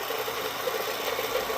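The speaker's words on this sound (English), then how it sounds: "Because this motor's straining and I have it geared down a lot." The small electric motor of a heavily geared-down U-matic tape rewinder strains as it runs, giving a brief, steady whirring hum at close range.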